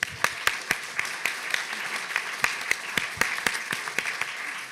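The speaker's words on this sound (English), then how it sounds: "round of applause for everybody" An audience at an academic museums panel event applauds, with sparse, distinct claps ringing out at moderate distance in a steady, thinning patter.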